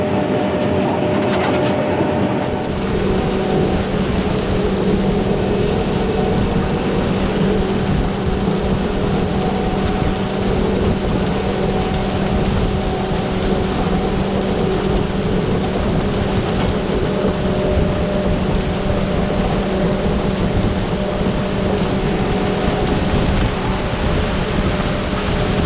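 A Case IH Miller Nitro 6300 self-propelled sprayer runs through a tall Western Kentucky cornfield during a turnaround, making a loud steady machine drone with a constant rushing rumble, close and continuous, no voices.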